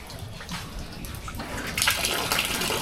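Water gushes hard from a tap at a tea-plantation campground, a loud, close, continuous rushing splash that swells slightly louder toward the end, with no talking.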